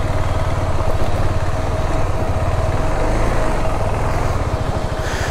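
A motorcycle engine drones steadily beneath the rider on a rough mountain road on the route from Nepal toward Darjeeling, a close, continuous low rumble with faint pulsing.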